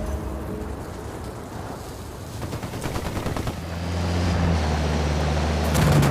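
Gunfire in Ghost Recon Wildlands, a rapid burst of repeated shots over wind and engine-like rumble, the firing fairly loud and close.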